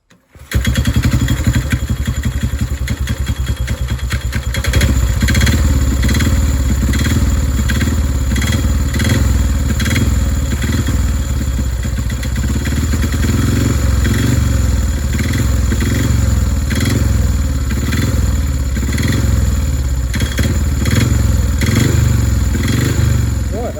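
Methanol-fuelled speedway bike engine fires on the first kick and runs loud and steady for the whole clip, a harsh rapid single-cylinder bark with clattering mechanical noise over it.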